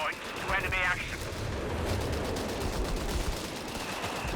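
Mortar and base howitzer fire in Company of Heroes 3 rumbles as a dense, continuous wash of distant booms and crackling impacts, with a brief warbling whistle early on and a voice talking over the battle noise.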